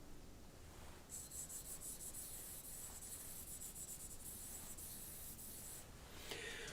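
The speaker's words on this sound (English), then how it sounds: "When you're finished rosining your bow" Rosin rubbed along a violin bow, a steady faint hissing scrape that runs continuously for several seconds, close and alone.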